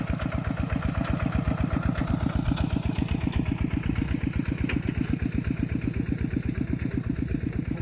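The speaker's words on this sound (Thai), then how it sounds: "เครื่องมือทันสมัย ในการไถนา ก็คือรถไถนั่นเองนะพี่น้อง" A tractor engine chugs steadily at close range while ploughing a rice paddy, its low rapid pulsing thump continuous and even throughout, with faint clicks above.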